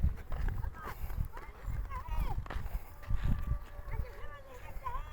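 A donkey's hooves clip-clop on the ground in an irregular moving rhythm, nearby, while people talk over it and outdoor noise runs throughout.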